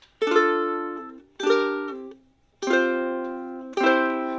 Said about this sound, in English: Just single strums, and that continues on through that little part until the music starts